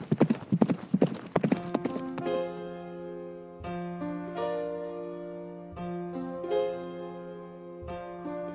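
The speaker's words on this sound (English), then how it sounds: "And I threw Benno on his horse, jumped onto mine, and we went as fast as the wind." Horse hooves clip-clop at a fast pace as a sound effect in a Nordic Dungeons & Dragons tabletop roleplaying session, with a brief whinny, then sustained music tones carrying on alone.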